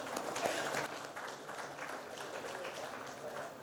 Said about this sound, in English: A big round of applause for Anjum.